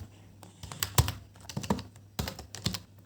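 Code is typed on a computer keyboard: quick irregular bursts of close, crisp key clicks with short pauses between runs, and no voice.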